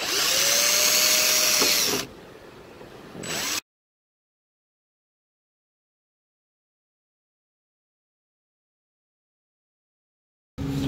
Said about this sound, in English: I use a drill bit and drill around the whole perimeter of where I am wanting to cut out